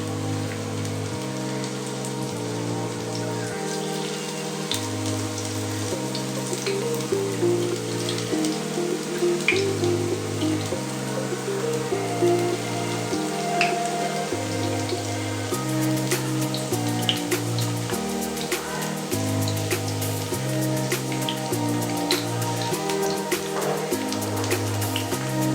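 Marinated bambi shak frying in a pan over lowered gas gives a steady, close, rain-like crackle and spatter that lasts throughout, while a low hum changes pitch in the background.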